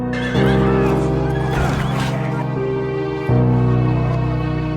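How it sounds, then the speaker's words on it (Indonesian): A horse in a film neighs in a long, loud whinny, rising and wavering, set against a sustained orchestral score that swells again near the end. "Biarawan itu lalu kabur dengan menaiki kuda milik Jack cuy."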